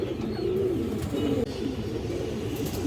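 Pigeons kept for sale, coloured and high-flyer breeds, coo continuously nearby in a dense, rolling chorus of low warbling calls with a brief dip midway and no speech.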